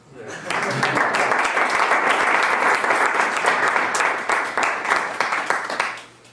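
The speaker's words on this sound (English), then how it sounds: "And now the next applause to the assistentes." A lecture audience applauds steadily for several seconds, the clapping dense and even before fading out at the end.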